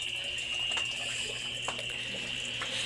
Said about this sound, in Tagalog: Ang tulo ng tubig, ayan o.